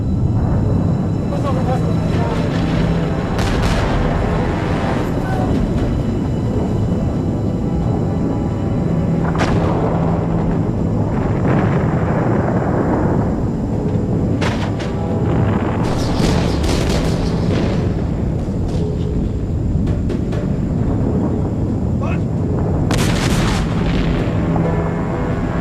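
Explosions and artillery fire from the B-52 Christmas bombing campaign, the renewed Operation Linebacker over Vietnam, heard as repeated heavy booms and rumbling blasts in a loud, continuous barrage with a voice talking over it.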